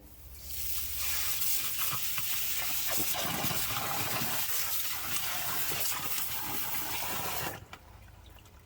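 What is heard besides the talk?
water from a garden hose filling a French drain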